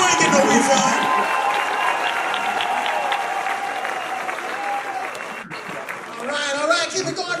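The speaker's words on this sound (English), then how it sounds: "Put your hands together for Daryl Littleton, aka D Militant." Live comedy-show audience applauding and clapping for a comedian, a dense sustained wash of claps and crowd noise that stays loud throughout before swelling again near the end.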